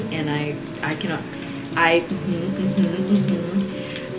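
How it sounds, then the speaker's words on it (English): A crackling fire ambience for a Shire-themed ASMR setting, with soft, steady pops and hiss running under a person talking throughout. "it's just little bits of Shire ASMR with a crackling fire"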